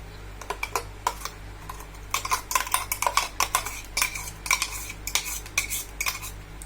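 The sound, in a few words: mixing ground onion and salt together in a kadai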